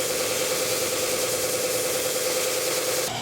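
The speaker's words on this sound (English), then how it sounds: "So I use this sander to help make those curves smooth." A power sander smoothing the curved edges of scrap wood hearts runs with a loud, steady motor whine and buzzing vibration, close and unbroken until it cuts off at the end.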